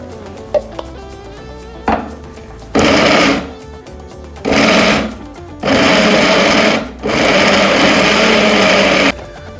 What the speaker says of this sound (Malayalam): ചിക്കൻ ഒന്ന് ക്രഷ് ചെയ്ത് കൊണ്ടുവരാം